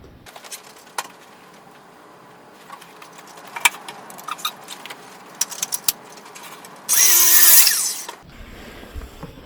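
A jigsaw set for an angled 45-degree test cut on a wood shelf piece: scattered clicks and taps of setup, then a loud, short buzzing saw burst of about a second close by.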